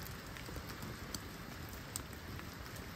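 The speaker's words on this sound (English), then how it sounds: "Rain is super, super light too." Light rain falling at a remote mountain lake campsite, a steady soft patter with scattered drops tapping close by, with no voices.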